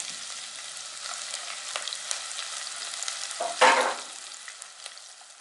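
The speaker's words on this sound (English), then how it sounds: "Now I'll add the chopped onion and garlic and fry it all up until it's nice and soft" Chopped onion and garlic fry in vegetable oil for chili con carne with a continuous light crackle, briefly interrupted near the middle by a louder scraping stir, then settling back to a soft sizzle.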